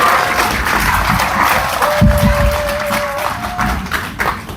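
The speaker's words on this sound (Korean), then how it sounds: "큰 박수 부탁드립니다." Audience applause at a political party lecture event in South Korea, a dense continuous crowd clapping with some cheering and a faint tone, fairly loud and sustained.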